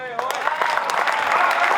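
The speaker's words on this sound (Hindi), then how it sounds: "और शानदार तालियां बजाएं और जोर से भाई के लिए" Audience applause at a Teacher's Day celebration and award ceremony, a dense steady clatter of many hands that fills the hall, with voices mixed in.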